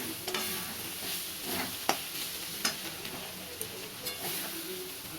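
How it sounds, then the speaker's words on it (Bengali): Red amaranth greens stir-fry in a pan, a steady sizzle broken by sharp scraping knocks of the spatula every second or so, close and moderately loud. "শুকিয়ে ভালো মতো একটু ভাজা ভাজা মতো করে নিয়ে তারপরে নামিয়ে নেব"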